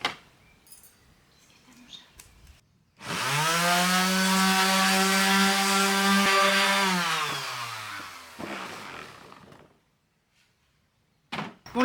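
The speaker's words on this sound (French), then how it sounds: "je vais m'occuper de poncer toutes les planches" Wooden boards for handmade gates being sanded with a power sander: a loud, steady motor whine that starts abruptly, holds for about five seconds, then winds down and stops, with quiet handling noises around it.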